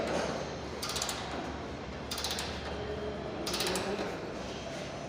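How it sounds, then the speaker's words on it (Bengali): A machine tightening bolts at a Saudi work site, heard as three short bursts of ratcheting mechanical whirring over a steady low background rumble, with no talking. "মেশিন লাগাই টাইট করতেছে"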